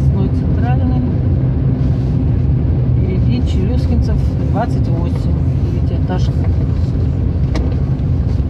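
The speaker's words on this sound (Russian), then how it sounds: "Едет справа без фар, его вообще не видно." A car drives along a wet road on an overcast, damp day in Asbest, its steady tyre and engine noise loud and continuous throughout, with someone talking over it.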